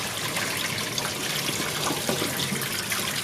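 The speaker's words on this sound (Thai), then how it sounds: "แล้วก็นำมาล้างพักไว้ในน้ำเย็นค่ะ" Cold water runs steadily from a tap while pork large intestine is rinsed in a kitchen sink, a continuous close splashing and trickling with no talk.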